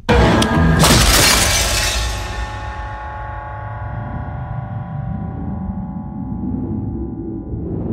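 A glass bottle smashes loudly near the start, a sharp burst of shattering followed by tinkling debris, then a long ringing, fading tail with low rumble underneath.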